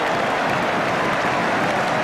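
A football crowd at Ipswich Town v Middlesbrough applauds a goal, a dense, loud, continuous wash of clapping and cheering that holds steady throughout without a clear commentary voice.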